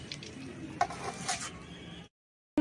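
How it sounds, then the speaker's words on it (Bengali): Katla fish pieces frying in hot oil in a wok, a quiet steady sizzle with a couple of soft utensil clicks, then cutting off abruptly into silence. "এইভাবে কিন্তু প্রত্যেকটা মাছ ভেজে নিতে হবে।"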